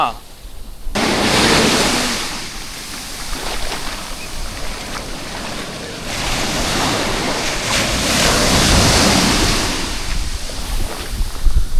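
Sea waves break and wash up on a beach near Pondicherry, a loud continuous roar of surf with swelling crashes and wind buffeting the microphone, with no voices.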